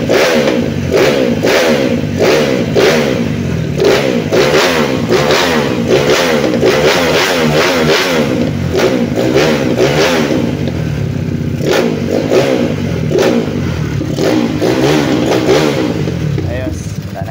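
A 196cc balance-crank motorcycle engine with a stock carb revs repeatedly in rhythmic bursts, close and loud, with a person talking over it throughout.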